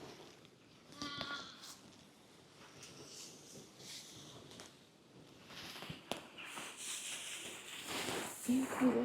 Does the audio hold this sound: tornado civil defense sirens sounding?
no